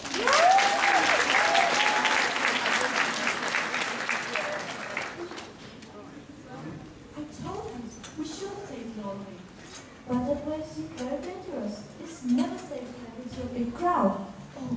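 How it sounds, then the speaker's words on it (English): An audience at a J-pop convention stage show claps loudly in a dense burst that fades after a few seconds, giving way to people talking. "Give them an applause."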